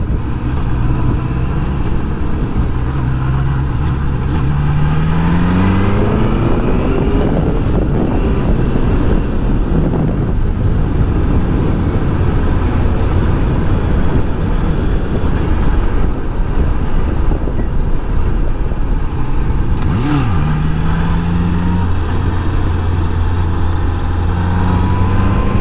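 A 2018 Honda CBR650F motorcycle on a test ride in Recife, its engine note rising and falling through gear changes, heavily buffeted by loud wind rush on the microphone, with no talking.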